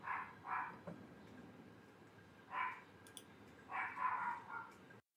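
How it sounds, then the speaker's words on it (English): A small dog barks in several short bursts, a pair, a single yap, then a quick run of three, sounding somewhat distant and muffled as if from another room. "I can hear him downstairs with our little guest dog, Bumble, barking at him."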